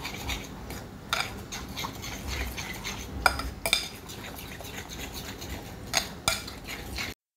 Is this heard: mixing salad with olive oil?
yes